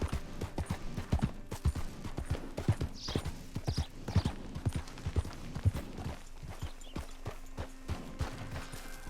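Horse hooves clip-clop in a steady walking rhythm in Red Dead Redemption 2, close and clear, with faint mechanical clatter and ambient noise behind them.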